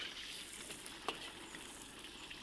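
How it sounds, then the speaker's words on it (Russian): Cardamom, cinnamon and other whole spices sizzle as they toast in hot fat in a pan, giving a quiet, steady crackling hiss with a few sharper pops, heard alone and close up. "Пусть немного пошипят."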